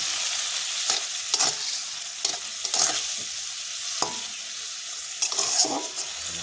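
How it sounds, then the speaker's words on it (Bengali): Prawns being stirred in a pan with turmeric and salt, a close, steady sizzle broken by repeated scraping strokes of the spatula at an irregular rhythm. "হলুদ লবণ দিয়ে আমি এবার একটু নাড়াচাড়া করে নেব।"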